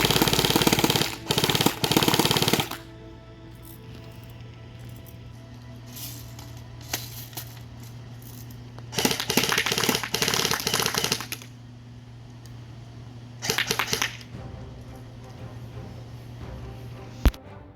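Cybergun M1A1 Thompson airsoft submachine gun firing full auto: three loud rapid bursts, the first about two seconds long, a longer one near the middle and a short one later, with a steady mechanical hum between them.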